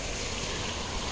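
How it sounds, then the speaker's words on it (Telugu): A waterfall near the Bhaja caves in Lonavala, a steady broadband rush of falling water, fairly faint and continuous, with no voices over it. "ఇక్కడ కూడా ఒక వాటర్ ఫాల్ ఉంది."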